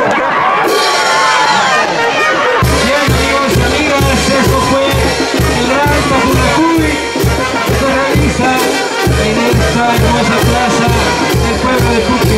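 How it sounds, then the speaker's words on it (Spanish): A festival crowd in the town of Puquio, Peru, cheering and applauding loudly and continuously, mixed with chatter and a driving rhythmic thumping beat underneath. "Fuertes los aplausos, amigos y amigas."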